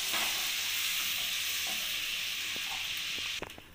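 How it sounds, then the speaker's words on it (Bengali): Prawns fry in hot oil in a wok with a loud, steady sizzle and a few stirring clicks near the end. "চিংড়ি মাছগুলো সব কড়াইতে দেওয়া হয়ে গেছে, এবার আমি এগুলোকে লাল করে ভেজে তুলে নেব।"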